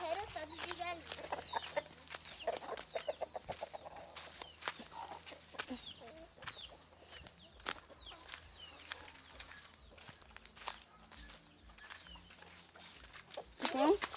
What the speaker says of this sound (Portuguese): Terreiro todo de galinha